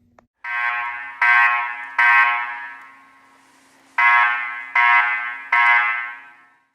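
A fire alarm system on a Firelite MS9200UD panel sounds during a test, loud and close, in two groups of three harsh buzzing horn blasts separated by a pause, with no talk.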